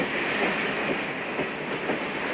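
A moving train rumbles steadily and loudly from an old 1950s comedy film, a continuous rolling roar with faint rhythmic clatter of wheels on track and no voices.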